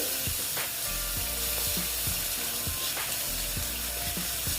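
Kashmiri red chilli powder stirred into a pan of ash gourd hisses with steady, loud sizzling, while a spoon scrapes and knocks against the pan in a regular rhythm.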